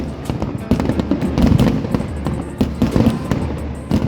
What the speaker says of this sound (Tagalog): muling namukadkad ang kulay at saya sa mga manonood sa Grand Aerial Fireworks Display